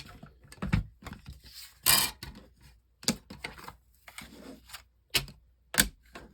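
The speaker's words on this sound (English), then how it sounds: "I'm gonna use my little Stampin' Cut Emboss machine to cut this down" A Stampin' Cut Emboss machine cutting paper, giving a series of separate sharp mechanical clicks and clacks at irregular intervals, close and fairly faint, with no talking.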